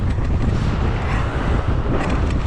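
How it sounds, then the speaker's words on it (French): Wind roars and buffets the microphone in a steady, dense rush during a mountain bike ride at the Alpe d'Huez bike park, loud and close, with no voices. "Ouah, le vent."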